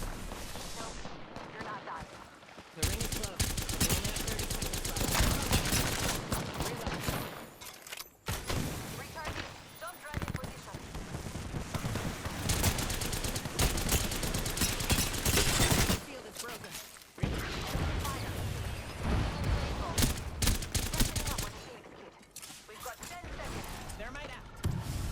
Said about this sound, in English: This clip just shows how crazy things get in front of me when all teams are just shooting at each other.